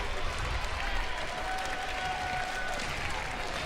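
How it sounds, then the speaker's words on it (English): A softball crowd at a college game between LSU and Alabama, rising to its feet and applauding and cheering in a dense, steady roar with no break. "The crowd comes to its feet, sending out encouragement to Berzon."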